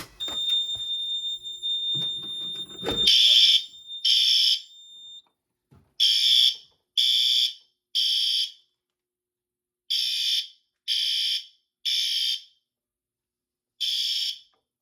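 A fire alarm system on a Notifier NFS2-640 panel sounds after an FCI MS6 pull station is activated: a short burst of handling noise, then loud, high-pitched electronic tones pulsing in repeated groups with pauses between them.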